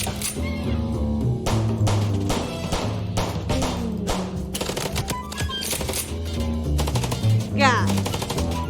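Rapid video-game gunfire from Chicken Police, with repeated loud bursts of shots and impacts layered over a continuous musical score.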